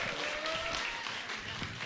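A faint, distant round of clapping from an audience at a forum on election fraud, soft and continuous for under two seconds with a low murmur beneath it.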